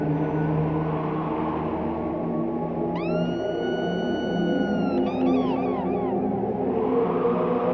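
A band's guitar, played live at Pompeii in 1971 through a wah-wah pedal, lets out eerie seagull cries during a song: a few high, bending glides appear midway over a steady, humming band backdrop, with no talking.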